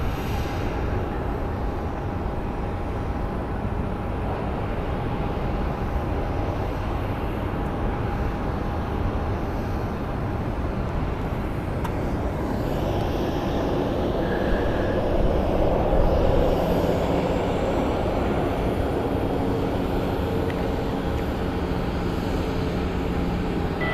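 Southwest airliner taking off from runway 25 right at Phoenix Sky Harbor Airport: a steady, distant jet engine roar that holds for the whole stretch and swells slightly midway, with no voices.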